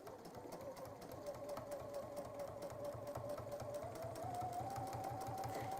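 A sewing machine runs steadily while top stitching fabric, a fast, rhythmic mechanical whir with a pitch that slowly rises, fairly quiet and unbroken.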